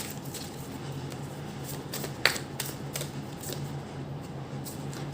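Tarot cards are shuffled during a reading, producing soft, rapid riffling and flicking with a sharper snap midway, close and fairly quiet, no talking.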